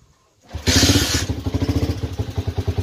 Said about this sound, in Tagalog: So, startin natin yung ating motor.